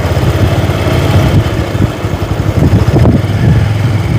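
A vehicle engine idles loudly and close at a Srikakulam beach, a steady low rumble that dips briefly midway, with no talking.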